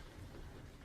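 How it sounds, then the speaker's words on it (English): Rain and thunder of a storm, a dense continuous wash of falling rain with a low rumbling undertone, steady and fairly loud throughout a brief moment. "Storms like this put me right on the edge, too."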